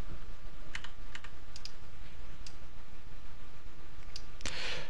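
Key presses on a computer keyboard while using PrusaSlicer slicing software, a few sparse clicks in quiet room noise, then a louder clatter near the end.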